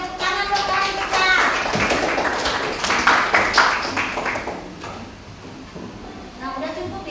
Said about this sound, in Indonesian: Tepuk tangan dong kali kita.